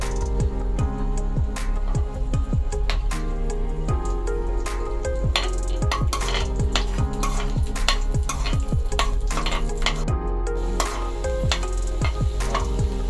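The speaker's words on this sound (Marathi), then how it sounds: "तर आता मी त्यात थोडंसं तेल टाकून त्यात आलं आणि लसूण भाजून घेते" Ginger and garlic roasting in a little oil after coconut and onion, stirred briskly with a spatula: loud, close sizzling with rapid repeated scraping and clattering strokes against the pan, no talk.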